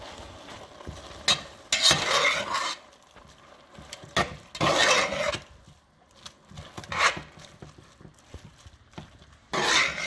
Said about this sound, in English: Now I'm going to add about 1/4 cup of Parmesan cheese. And I'm going to just stir that.